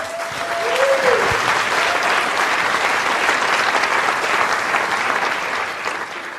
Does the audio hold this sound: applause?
yes